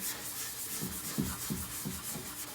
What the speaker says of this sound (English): So then I get one of these green thingies and then